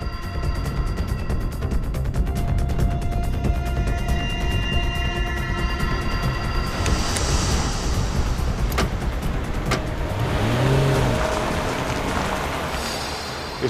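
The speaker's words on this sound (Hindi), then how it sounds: "इसने अचानक गाड़ी की स्पीड क्यों बढ़ा दी?" Car engine rises steadily as the vehicle speeds up, a continuous loud drone with road noise and no voices.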